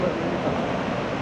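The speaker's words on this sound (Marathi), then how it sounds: "पाण्याचा आवाज येतोय." Steady broadband rush of flowing water at an untouched spot in Kerala, a continuous even wash with no breaks across the short stretch.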